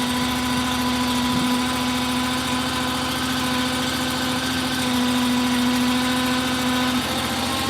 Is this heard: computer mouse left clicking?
no